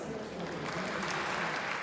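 Recorded applause sound effect playing in a theatre cloakroom, a continuous even wash of clapping from a crowd, moderately loud and sustained throughout with no gaps.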